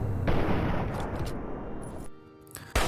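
Gunfire sounds in Fallout 3 as a dense, rapid burst of shots in the distance, followed by quieter pauses and a sudden loud burst at the end.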